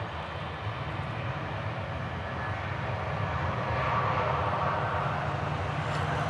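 Distant jet aircraft roar near runway 36R at DFW airport, a steady broadband rumble that swells slightly toward the end, fairly faint and continuous with no talking.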